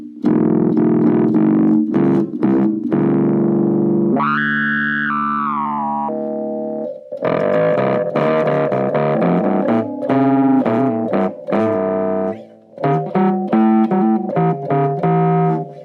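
A bass guitar run through a synth effect on a Hotone Ampero Mini: heavy effects, buzzy sustained notes and a brighter filtered swell in the middle, then choppy repeated notes; loud, no talking.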